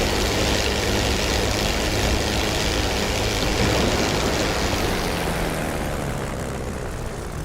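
Propeller aircraft engine in the DCS flight simulator, a loud continuous droning roar with a low rumble, easing off slightly toward the end as the throttle is reduced.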